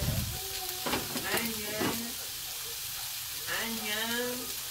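Potatoes sizzle and hiss as they are stir-fried in a pan for a Korean-style dish, with a steady bright frying hiss beneath a voice talking throughout.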